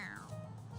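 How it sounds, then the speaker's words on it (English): A toy cat gives a short electronic meow when its head is pressed, a brief tonal cry heard close up over a low background hum, with faint voices nearby. "It meows when you press on its head."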